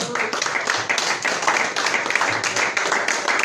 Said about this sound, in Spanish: iglesia, den un aplauso al Señor.